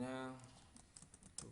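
Light clicks of typing on a computer keyboard, short and fairly faint, come just after a voice fades out at the start.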